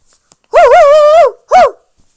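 Two loud, close dog barks in a video game, a long drawn-out wavering one followed by a short sharp one, with near silence around them.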